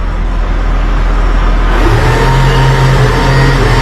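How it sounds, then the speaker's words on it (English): A truck engine holds a steady high idle while its winches run at high speed during roadside recovery work. The close, continuous mechanical drone rises to a stronger, fuller hum partway through, with no talking. "you can tell I've got the winches on high speed. The engine's also on high idle."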